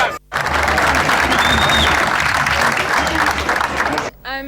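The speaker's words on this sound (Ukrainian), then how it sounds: "Причому аплодують так несамовито, наче їх спортсмени чують." An outdoor crowd on a waterfront claps and cheers wildly while watching games on a big screen, a dense continuous roar that drops away abruptly near the end, where a voice cuts in.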